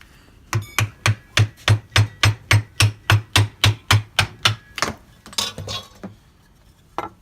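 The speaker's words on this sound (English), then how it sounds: "We're just going to put in the vise and tighten it up pretty good, and then hit it out." Hammer blows knock an old bushing out of a 1989 BMW 3 Series front control arm clamped in a vise: about fifteen sharp, evenly spaced metallic strikes in quick rhythm, loud and close, followed by a few looser clanks and rattles.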